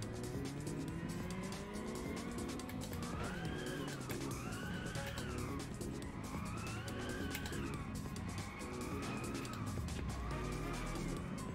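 Racing car from Inertial Drift winding through hairpin bends, its engine rising and falling in loud continuous revs with tire squeal and skidding as it drifts through the corners.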